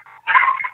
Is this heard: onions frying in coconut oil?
no